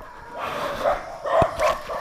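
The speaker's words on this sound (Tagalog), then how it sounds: "Oh, ang daming aso." Several dogs at a farm resort on Mount Magdiwata, Agusan del Sur, barking and yipping close by in a quick irregular series of short, sharp calls.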